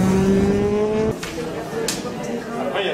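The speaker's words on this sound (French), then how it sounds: "Mais peut-être il y a trop de voitures." Road traffic passes nearby, with a car engine droning and fading around a second in, then further vehicle whooshes. People talk over it in French.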